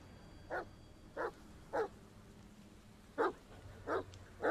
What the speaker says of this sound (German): Folge dem Hund.